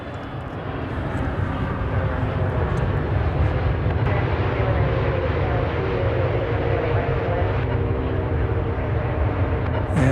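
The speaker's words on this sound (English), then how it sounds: "I'd love to be able to show you where that propeller sound is coming from." A propeller airplane at DFW Airport makes a steady, loud engine drone that holds evenly for about ten seconds, with no speech over it.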